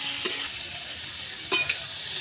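Bitter gourd and potatoes fry in a pan with salt, turmeric and chili powder, a soft continuous sizzle broken by two brief scraping stirs, close and quiet with no voices.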